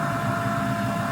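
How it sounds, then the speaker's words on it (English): A steady mechanical hum runs without a break, like a pump whirring continuously at an even level, with no voices. "what you're hearing is I'm pushing the gas through the system"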